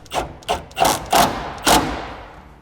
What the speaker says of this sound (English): Next, you can tighten the clamp right next to it.